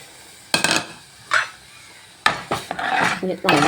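A spoon scrapes and clinks against a pot while cumin and coconut paste is stirred for kalan, in a few short separate bursts of metallic rubbing.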